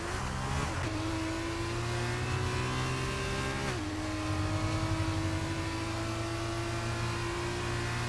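Formula 2 race cars from the F1 22 video game at the Bahrain Grand Prix scream past under sustained high revs, with loud gear-shift pitch drops and overlapping engines accelerating throughout.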